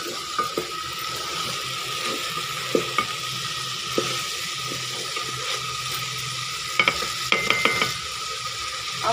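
Onion and garlic frying in a pot, with a steady soft sizzle and occasional sharp scrapes and clinks of a spoon stirring, close and fairly quiet, no talking.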